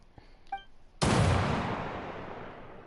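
A flashbang goes off in an anime video game, a single sudden loud blast that rings out and slowly decays, preceded by a few faint small clicks and tones.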